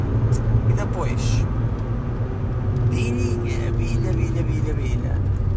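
A modified Seat Ibiza 6L with over 440 hp and nitro accelerates in third gear, giving a loud, continuous low engine drone close by. Someone talks over it.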